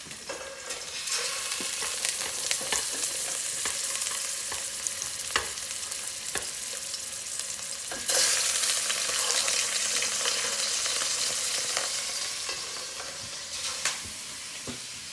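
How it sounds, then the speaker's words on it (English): Oxtail browning in hot oil in a pan, a steady loud sizzle and hiss with occasional crackles and pops, close up and swelling at times, no talking. "we're going to add the oxtail in and let it brown on"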